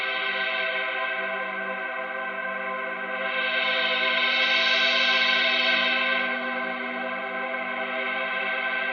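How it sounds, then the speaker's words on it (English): Eurorack modular synth patch holding a dense, sustained tone with reverb, its brightness swelling in the middle before settling back, steady and continuous with no talk. "a little bit of offset voltage into the mod input to trigger some reverb"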